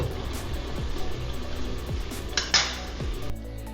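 A metal lid clanks onto a pot of fish peera with a short clatter and ring near the end, after a low background rumble and a few faint utensil taps.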